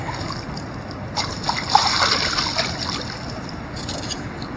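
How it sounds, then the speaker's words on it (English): A canoe runs shallow, fast shoal rapids on the Chattahoochee River, with close water splashing and sloshing against the hull, a steady rushing bed with bursts of louder spray in the middle and near the end. "We're shooting rapids."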